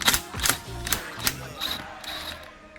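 Nut being loosened on a Mini Cooper front strut shaft, held with locking pliers: a run of sharp metallic clicks and ratcheting taps, close and moderately loud, with no talk.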